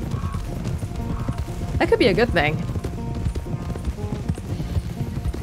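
Horses walking in the Red Dead Redemption 2 video game, soft rhythmic clip-clop of hooves under steady ambient sound, while someone speaks briefly in the middle.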